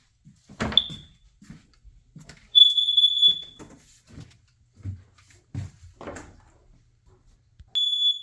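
A residential interconnected carbon monoxide and smoke alarm gives a few short, shrill beeps spaced apart, mixed with scattered knocks and handling noises in a quiet room.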